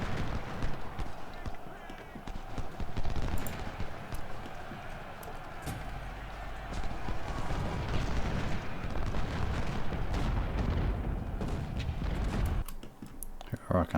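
Cannon artillery fires in the Civil War strategy game Ultimate General: Civil War, heard as repeated booming blasts and rumbling battle noise that come and go through the clip, mixed with the game's constant battlefield din.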